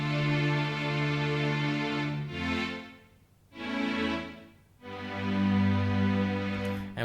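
High and low synth layers from a Logic Pro remake of a song intro sound together as full sustained chords, rising and dipping in three long swells, with no one speaking.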